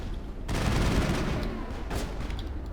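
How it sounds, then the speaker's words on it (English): Gunfire in the video game Mass Effect erupts after a brief quiet start and keeps up as a dense, sustained volley of overlapping shots, with a fainter sharp crack near the end. "And that's a sniper."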